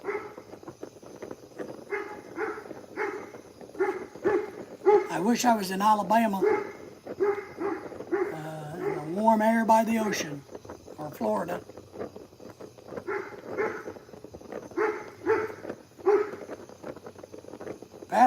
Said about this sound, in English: a little noisy because of the dogs